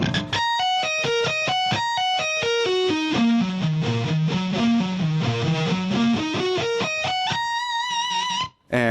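Electric guitar plays a sweep-picked arpeggio variation at a moderate pace, with distortion, clear rapid note runs descending and climbing back up, followed by a short sustained tail and a brief cutoff.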